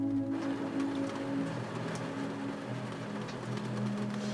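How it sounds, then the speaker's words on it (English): Heavy rain teems down at White Lake, a fishing spot, as a steady, close hiss that never lets up, with a low tonal hum underneath. "as soon as we get here, it starts raining"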